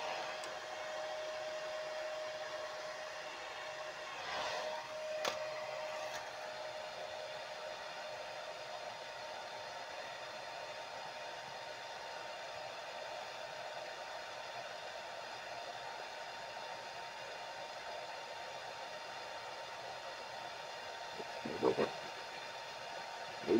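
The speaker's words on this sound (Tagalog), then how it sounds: "So, kailangan natin ng blower." A quiet, steady whirring heat blower runs throughout, warming a decal being applied to a motorcycle, with a couple of brief clicks and knocks in the background.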